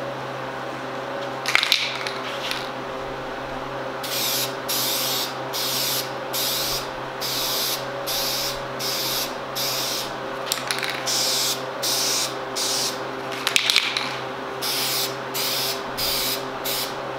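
A second, heavier coat of spray paint goes onto plastic tow mirror covers for a Chevrolet Silverado: a run of short hissing aerosol bursts with brief gaps, close and fairly loud over a steady background hum.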